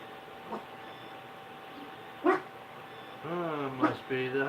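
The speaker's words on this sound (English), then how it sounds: "My little doggy's telling me." A small dog yaps and whimpers indoors in a home, a few short high barks and whiny yips close by, with a hum in the background.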